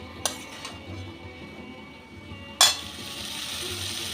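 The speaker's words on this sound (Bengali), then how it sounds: "এবার আলু আর লাউয়ের সাথে মশলাটাকে আরও 2-3 মিনিট আমি কষিয়ে নেব।" Spices sauté with diced bottle gourd and potato in a pan, a soft continuous sizzle broken by a few sharp clinks of a spatula against the metal, with one louder scrape partway through.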